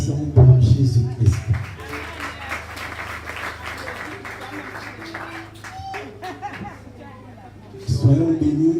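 A church congregation applauds at a steady patter, loudest at the start and again near the end, with chatter, murmuring voices and a little laughter mixed through the clapping.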